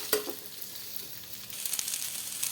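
A wheat-flour mixture for atta balls sautés in a hot pan, giving a steady close sizzle broken by short scraping stir strokes, with no voices.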